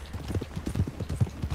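Horse hooves from the video game Red Dead Online beat in an uneven clip-clop rhythm, moderately close, with some low thuds and no speech over them.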